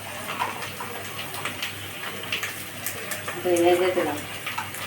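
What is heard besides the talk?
water poured into a cooking pot with chillies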